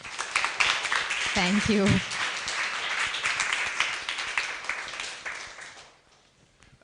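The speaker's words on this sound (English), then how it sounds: "please give a big round of applause for Pramodha here" An audience at a talk on cultural education claps steadily for a few seconds, a voice briefly speaking over it, before the applause fades out.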